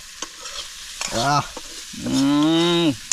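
Shrimp frying in a pan over a campfire on a remote island: a faint, steady sizzle underneath, interrupted by two drawn-out, voice-like tonal cries nearby, the second longer and louder.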